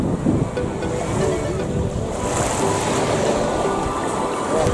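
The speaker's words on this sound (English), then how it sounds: "This is the beach." Steady surf washing in on a clear-water beach in Albania over a constant rush of wind, loud and close, with no clear individual wave breaks.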